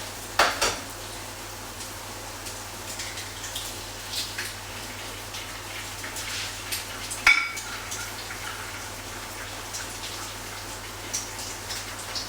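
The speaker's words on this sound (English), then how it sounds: "So that's sizzling away." An egg fries in a pan while a full English breakfast cooks, giving a soft steady crackling sizzle broken by occasional light clinks of utensils.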